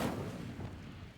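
Incendio fire spell in Hogwarts Legacy, a short muffled burst with a whooshing roar that quickly fades.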